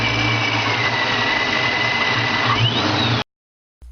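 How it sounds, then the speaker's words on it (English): A centrifugal vortex supercharger runs steadily with a high, even mechanical whine over a low engine drone, loud and continuous for about three seconds before cutting off abruptly into silence. "Take a listen to the sound of a centrifugal vortex supercharger."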